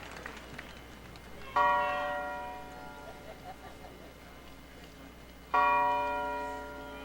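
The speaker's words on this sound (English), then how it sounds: "the bell from the historic Claiborne Temple rung 39 times, once for each year MLK lived" The bell of the historic Claiborne Temple in Memphis tolls in honor of MLK, two resonant strikes a few seconds apart, each ringing out clearly and decaying slowly over a quiet outdoor background.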